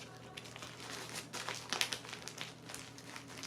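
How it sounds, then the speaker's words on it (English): Duct tape crackles and rips free from inside a hiking medical kit, a short, close, crinkly tearing burst rising to a sharp peak midway, fairly quiet overall. "this black bit of duct tape here, so you just rip that out"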